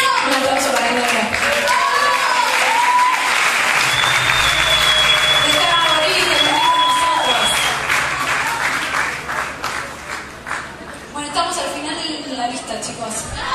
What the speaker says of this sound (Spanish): Un aplauso para el nombre.